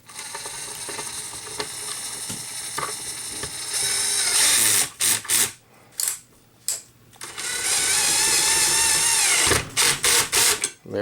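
A small 12-volt cordless driver fastens a belt hook onto a DeWalt 20V cordless paper-tape framing nailer, with bursts of close, loud motor whirring and ratcheting broken by short pauses.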